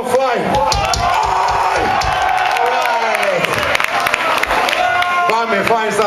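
A crowd at a live music event applauds and cheers for the band, loud dense clapping and shouting throughout, with an amplified voice and music running over it.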